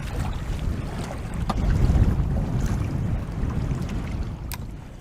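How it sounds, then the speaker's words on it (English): Steady wind over a large lake in blustery fall weather, with boat and water noise and continuous broadband rumble buffeting the microphone, swelling slightly mid-clip. "Wind is definitely building though, it's supposed to hit close to 30 kilometers an hour."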